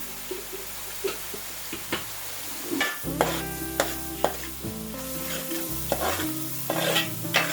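A spoon knocks and scrapes through a sizzling pan as chili powder is stirred into a frying crab curry, with irregular clanks over a steady fry and no voices.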